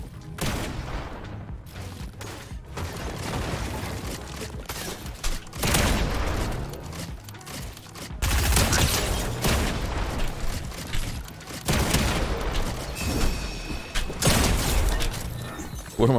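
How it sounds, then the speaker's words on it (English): Grenade explosions in a Fortnite ranked match: a dense barrage of booms and crackling blasts that goes on for sixteen seconds with hardly a break, with heavier bursts hitting again and again. "I just got naded 12 times."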